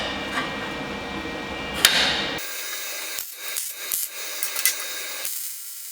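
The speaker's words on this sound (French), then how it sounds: "Je vais mettre les pièces en position, les pointer et souder." A GYS Easymig 160 XL MIG welder joins tacked-together pieces with a steady, close crackling buzz for about two seconds. It then stops abruptly, leaving quieter scattered clicks and handling noises.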